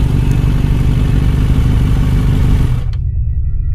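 A motorcycle running on a road rumbles loudly and steadily, then abruptly cuts out as its petrol runs dry, leaving only a faint low hum in the sudden quiet.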